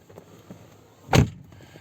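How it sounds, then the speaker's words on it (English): A single solid thud as the door of a 2008 Lexus GX 470 SUV swings shut, heavy and close, with quiet surroundings before and after. "so now let's close the door"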